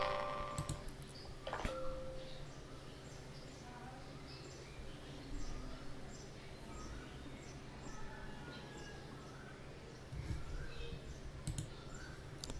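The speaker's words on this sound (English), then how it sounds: "So just double left click it to run the installer." Mouse clicks on a computer launching a software installer, a few sharp clicks over a steady background hum, fairly quiet.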